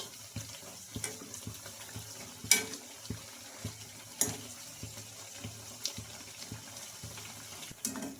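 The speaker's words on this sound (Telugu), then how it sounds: "ఇంకా అటు ఇటు టర్న్ చేసుకుంటూ బాగా కలర్ వచ్చే వరకు అయితే ఫ్రై చేసుకోవాలండి" Sago and chana dal fritters frying in a pan of oil, a steady wet sizzle with irregular pops and crackles throughout, close and continuous with no talking.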